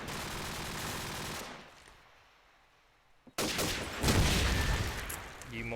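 Gunfire from a competitive Call of Duty 4 Promod playoff match: a dense, loud volley of shots cuts off into a brief quiet lull, then heavy firing bursts back in and continues to the end.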